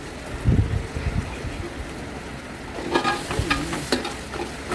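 Chilli chicken masala with added black pepper powder being mixed in a pan, giving soft scraping stirs with a light sizzle, a few louder clinks of the spoon near the end, and no talking.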